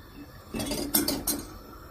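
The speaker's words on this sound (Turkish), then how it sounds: "Şimdi mantarlarımı yerleştiriyorum." Pine mushrooms being placed into a metal pot of boiling water, a couple of quick clinking knocks of pot and utensil over about a second against quiet kitchen background.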